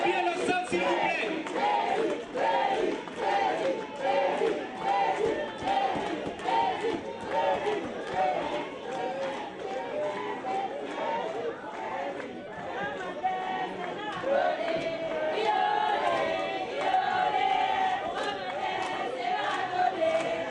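A crowd of party supporters at a political rally in a hall cheers and shouts loudly without pause, with voices mixed into the din.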